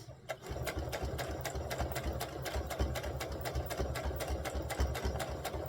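An old sewing machine stitches a dress from a Simplicity 3522 pattern with a fast, steady mechanical rhythm. The motor runs evenly and close, with no voices over it.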